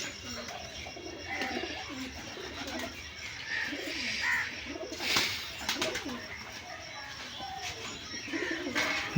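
Giribaj pigeons coo repeatedly at close range as the flock is brought down to the loft, over steady outdoor background noise with occasional voices.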